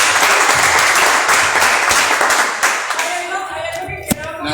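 Audience applause at a public conversation event on the river, a dense sustained wash of clapping that thins toward the end, with a sharp single clap near the close.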